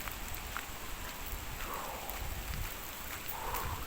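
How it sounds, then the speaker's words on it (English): Rain falling outdoors in wind, a steady diffuse patter and hiss with occasional louder drips and splashes, fairly close and continuous. "Can you hear that rain?"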